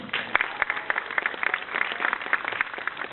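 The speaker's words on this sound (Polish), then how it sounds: "wielkie brawa dla naszych przyjaciół ze Słowacji" Crowd applause at a youth football tournament opening greets a team from Slovakia, a steady, moderately loud patter of many hands clapping throughout with no pause.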